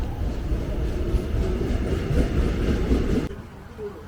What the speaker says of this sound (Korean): KTX가 쌩 하고 지나가는 이곳은 1호선 전철 관악역입니다